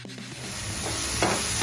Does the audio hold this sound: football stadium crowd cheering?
no